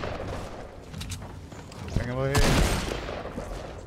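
Gunfire in the video game Fortnite during a squads match: a burst of rapid shots around the middle, fairly loud, with players talking over and around it.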